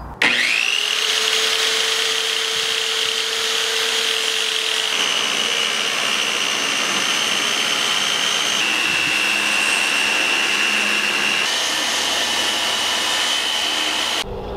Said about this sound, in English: I've just kind of put a bevel on it with the circular saw.